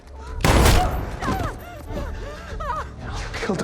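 A burst of gunfire in a tense Hunger Games film scene rings out as one loud, blasting shot followed by echoing reverberation, with shouting and frantic voices crying out over the aftermath.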